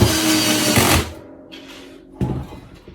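A handheld power screwdriver whirs in two short bursts while driving screws into 3D-printed PETG modules during assembly, with a brief mechanical clatter between.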